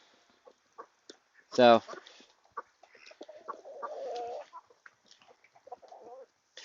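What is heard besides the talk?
backyard chickens and ducks clucking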